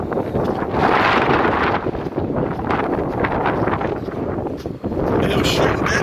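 Strong wind buffets the microphone at an outdoor airgun shooting range, a loud, steady roaring rush that stays constant throughout, with no clear voices.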